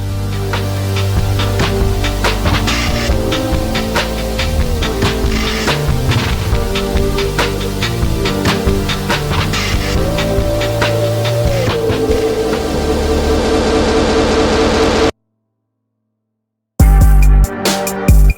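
The second half of a trap beat intro plays: dense layered drums under a gliding melodic line, loud and continuous, then a sudden drop to silence and a short loud return.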